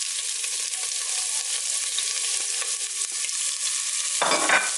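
Onions with a small cinnamon stick fry in a generous glug of olive oil, a dense continuous hiss close by, ending with a brief clatter, no speech.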